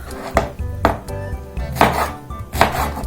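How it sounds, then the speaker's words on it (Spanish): A knife chops peeled pineapple into small cubes on a board, four or five crisp close thuds at a steady, unhurried rhythm. "Ya que pelamos bien nuestra piña, la vamos a empezar a picar."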